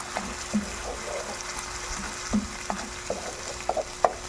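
Canned corned sardines sautéing in a pan, a low steady sizzle with scattered clicks and scrapes of a spatula against the metal, close by and with no talk.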